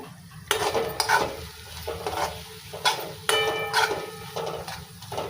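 Eggplant roasting in oil in a pan for spicy Maharashtrian vangyacha bharit, a steady close sizzle broken by occasional sharp clinks and scrapes of a utensil against the pan.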